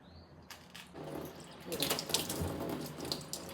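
Running tap water splashes over tripe (wajri) as it is washed by hand for a Konkan non-veg dish. The stream starts quietly, then pours and splatters steadily close by, with wet handling noises throughout.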